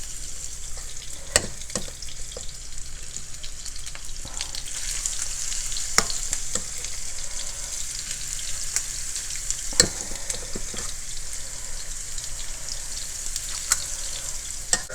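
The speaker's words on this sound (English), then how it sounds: "I'm going to fry these up to the point that they're brown" Zucchini and pork rind keto meatballs fry in a pan with a constant close hiss and crackle, broken by occasional sharp pops and light utensil clicks.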